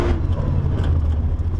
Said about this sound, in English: maybe you can hear I'm gonna hit the limiter